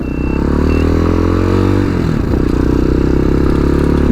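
A TBR7 Chinese dual sport motorcycle being ridden, its engine droning loud and steady with a pitch that sags and then climbs again, mixed with rushing wind and a bit of rattle.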